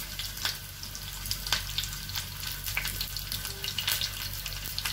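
Sliced ginger and long green chillies crackle softly in hot desi ghee, a quiet steady sizzle with occasional sharper pops and spits.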